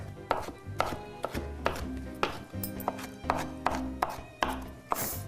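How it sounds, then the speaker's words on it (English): A knife chops chunks of tomato into little pieces on a cutting board, a steady run of sharp, close taps repeating roughly every half second, with low background hum and a few soft voice traces beneath. "We'll just slice those up. Get them all sliced in the little pieces."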